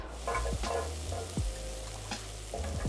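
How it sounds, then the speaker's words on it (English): Onions sauté in olive oil in a pan, a continuous close sizzle and crackle with occasional clinks and scrapes of a utensil stirring them. "We're going to add some olive oil in, and we're going to saute our onions for about 5 minutes or so."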